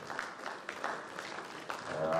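Audience applause at a South African local economic development awards showcase, a steady wash of clapping filling the full stretch at moderate level, with no clear individual voices rising above it.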